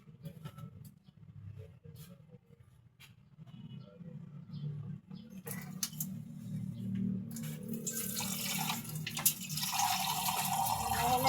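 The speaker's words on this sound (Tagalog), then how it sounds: "Wait lang, sindihan ko lang yung gripo kasi nasa CR yung gripo namin." A water tap inside a bathroom is opened, and the flow builds from a low trickle into a loud, steady rush of running water over the final seconds, with a voice talking faintly early on.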